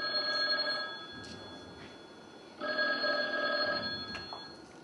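A telephone rings in two clear bursts with a pause between, fairly close and unaccompanied by talk.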